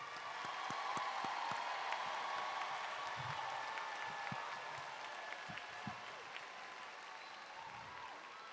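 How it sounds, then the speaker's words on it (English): Steady applause from a large audience at a 2021 Naaman Forest High School graduation ceremony, honouring the graduating class. It holds at an even level throughout, with occasional louder claps near the front. "let's give our entire class of 2021 a round of applause"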